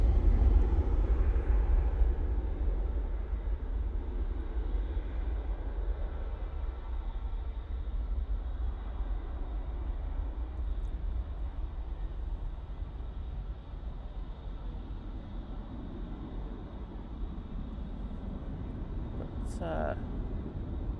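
An Emirates airliner passes the NATS control tower at Manchester Airport, its engine roar a broad, steady low rumble that holds at a distance for the whole stretch, with people talking over it.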